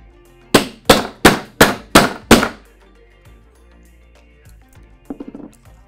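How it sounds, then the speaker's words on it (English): Six loud, evenly spaced blows of a heavy brass hammer ring out on a metal earring blank, each with a short ringing decay, followed by a brief light rattle. "I like to use the heavy brass attachment for the hammer for this part."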